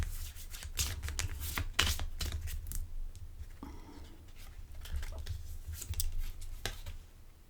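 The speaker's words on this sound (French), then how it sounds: "Laissez-moi tirer ma carte." Tarot cards being shuffled and one drawn from the deck, a run of close, quiet flicks, riffles and papery slaps in irregular bursts with no talking.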